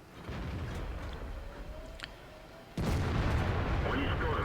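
Tank cannon firing HEAT shells in World of Tanks, an IS-4 heavy tank in a tier 8 battle, heard as a single sharp boom near the end over a steady rumble of engine and battle noise.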